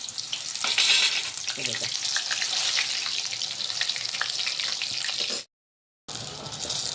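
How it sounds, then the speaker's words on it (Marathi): Brinjal slices fry crisply in hot oil over a high flame, a dense, steady sizzle that runs close and loud, cut by a brief full silence near the end. A voice speaks briefly over the frying. "आता ही वांगी मी तुम्हाला तळून दाखवते."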